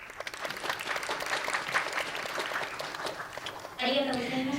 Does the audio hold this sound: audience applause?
yes